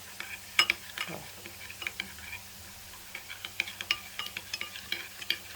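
Potatoes are being stirred in a pan with salt, paprika and black pepper. A spoon taps and scrapes against the pan in a quick, irregular rhythm over a faint background hum.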